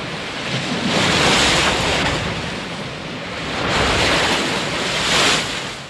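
Ocean breakers crashing on a Galapagos shore, a loud broadband roar that swells and recedes in two long surges, with wind buffeting the microphone and no voices.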